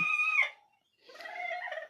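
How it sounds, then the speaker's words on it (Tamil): A brooding Peruvedai hen clucking close by in its nest, two drawn-out tonal calls separated by a brief silence, the second lower and more grumbling. "ஆல்ரெடி இங்கே ஒரு கோழி அடை வச்சுருக்கோம்"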